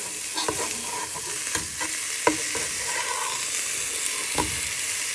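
Thai meatballs sizzle steadily in a hot pan, with chilli, ginger and garlic in the oil, while a utensil scrapes and turns them in scattered soft knocks, close and continuous with no talking.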